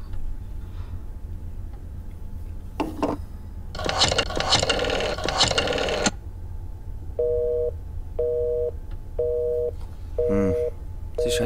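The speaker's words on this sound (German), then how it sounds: "Ich wollte nur meine Mutter anrufen, aber es war besetzt." Busy signal on a telephone line in the video game Black Mirror II: a series of evenly spaced short tones repeating at a steady pace, heard after a loud burst of noise and some clicks, with a faint background hum.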